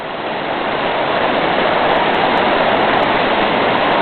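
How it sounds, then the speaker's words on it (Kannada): Loud, steady rush of a river flowing, a dense continuous roar of moving water with no pauses, close and alone. "ನದಿ ಸಕ್ಕತ್ತಾಗಿದೆ."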